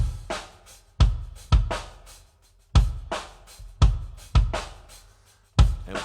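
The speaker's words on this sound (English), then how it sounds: "That is a really interesting sounding kick drum." A kick drum recorded with inside and outside mics thumps several times at uneven intervals, each hit pairing a deep, booming low end from the outside mic with a sharp, clicky attack from the inside mic; no voices.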